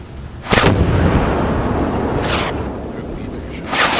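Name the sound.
tank cannon fire in Armored Warfare video game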